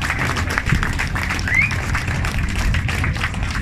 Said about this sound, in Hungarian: Lajosnak egy óriási nagy tapsot kérnénk szépen